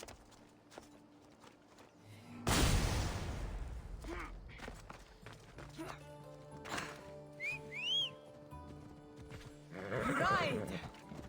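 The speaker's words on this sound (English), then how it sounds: "Go by horse." A horse in the video game Assassin's Creed Odyssey neighs and its hooves clip-clop amid game sound effects, with a sharp loud hit early on, whistling tones, and voices speaking over parts of it.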